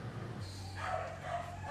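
Dogs at a stray dog shelter bark and yip, with a sustained low whine under the barks that fades into a steady roomy background of kennel noise.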